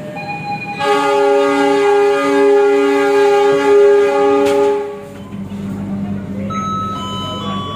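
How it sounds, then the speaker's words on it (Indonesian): A loud, sustained train horn blares for several seconds at a station platform, then gives way to a low rumbling engine and a few fainter horn notes as the Argo Bromo Anggrek train pulls out of track 1. "segera diberangkatkan dari jalur 1 kereta api Argo Bromo Anggrek dengan tujuan akhir stasiun Gambir"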